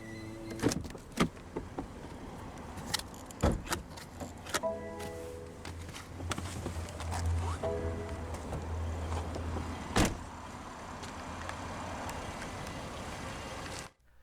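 A 2017 BMW 540i xDrive M Sport's power window motor hums steadily as the driver's window rolls down, with a few clicks and thumps around it in a quiet setting.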